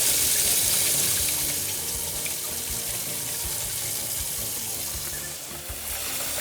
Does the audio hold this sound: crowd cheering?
no